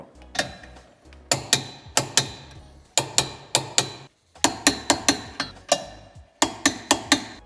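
Ratcheting and clanking metal on a towbar being bolted to a 2019–2024 BMW 1 Series (F40), M12 bolts tightened to 87 Nm; repeated sharp clicking bursts in quick rhythmic groups with short pauses, close and fairly loud, no talk.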